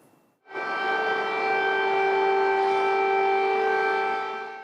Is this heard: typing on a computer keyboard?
no